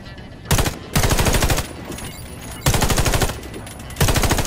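Gunfire at targets in the Warface video game, loud rapid automatic bursts fired in four separate volleys with short pauses between.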